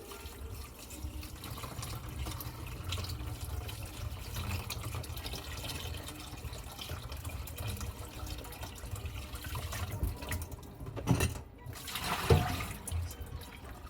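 Freshly cooked rice left to drain, a continuous low trickle and patter of water running off, with a couple of brief louder splashes and gurgles toward the end.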